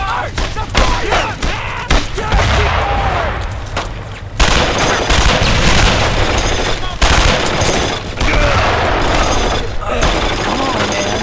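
Rapid bursts of machine-gun and rifle fire pound through a World War II firefight in the video game Brothers in Arms: Road to Hill 30, loud and continuous, with soldiers shouting over the gunfire.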